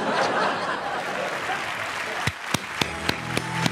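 Scattered audience applause with some chuckling during a live stream, a soft wash of clapping followed by a few sharp, distinct claps near the end.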